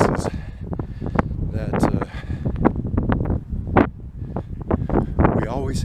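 Gusty wind buffets an outdoor microphone in open Texas country, a steady low rumble with irregular bursts that runs under someone speaking throughout.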